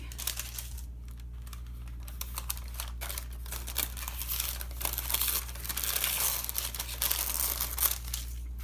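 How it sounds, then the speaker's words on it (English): Wax paper slowly peeled away from a glued planner cover: a continuous soft crinkling and rustling texture that swells and fades over several seconds, close by, over a steady low hum. "This is just wax paper to prevent the glue from sticking. Let's gently peel that away."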